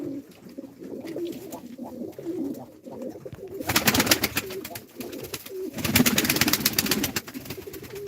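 Pigeons, both breeding and flying birds, coo at night feeding time, their soft repeated calls close by and steady, with bursts of fluttering and scratchy movement breaking in twice.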